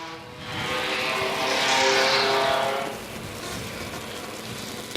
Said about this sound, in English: He got sideways! Spun it out on his own!